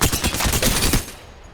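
A rapid burst of Alternator submachine gun fire from Apex Legends, a fast steady string of close, loud shots that stops abruptly, with no talking.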